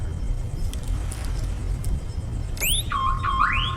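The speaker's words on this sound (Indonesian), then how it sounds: "menyalakan alarm mobil dengan tujuan untuk memberi tanda pada pengendara mobil yang lewat" A car alarm starts up over low road rumble, sending rising electronic whoops and then a warbling siren tone, loud and close after a stretch of quiet traffic noise.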